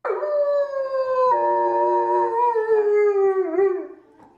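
A dog howls alone and close by: one long, loud, wavering howl that slowly falls in pitch and trails off near the end.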